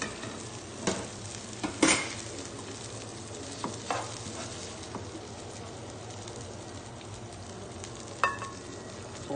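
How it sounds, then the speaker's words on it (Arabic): Onions fry in a pan with a quiet, continuous sizzle, broken by a few sharp clinks and scrapes from stirring, fairly faint and close. "حط البصل، اول مرحله البصل"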